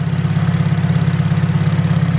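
A turbocharged Honda Civic GSR EF sedan engine idles steadily on a dyno at about 1,000 rpm, a loud, even low rumble with a regular pulsing throb and light mechanical clatter throughout.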